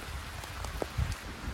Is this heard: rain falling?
yes